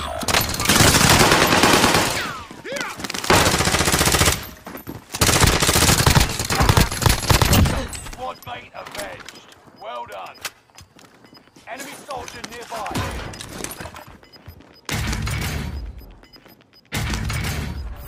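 Video-game gunfire on Warzone Rebirth Island comes in loud, dense automatic bursts separated by short pauses. It sounds close and sharp, and voices talk over parts of it.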